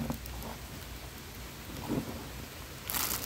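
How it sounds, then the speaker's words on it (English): Heavy rain pours down steadily as a dense, even hiss, with a couple of brief louder bursts of nearby splashing rising above the downpour. "Pouring down rain, by the way, man. Beautiful day. It's just ripping rain."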